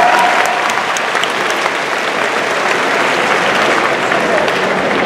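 A conference crowd at a gaming show bursts into loud, dense applause that continues evenly for several seconds with no break.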